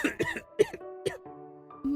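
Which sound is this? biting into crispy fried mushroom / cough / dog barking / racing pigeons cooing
cough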